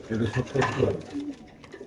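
A female racer pigeon at a pigeon seller's coos in soft, low, throaty bursts across about two seconds, close by, with voices nearby.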